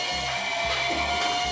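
Capsule gacha prize machine at an Akihabara shop whirring and grinding after its button is pressed, a steady mechanical drone with rhythmic low thumps and rattles, close and loud, with no talking.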